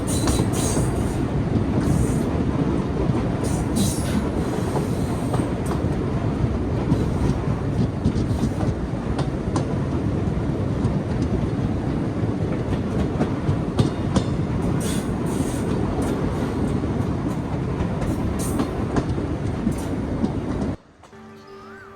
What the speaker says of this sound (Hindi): करीब 122 साल से ये ट्रेन आज भी चल रही है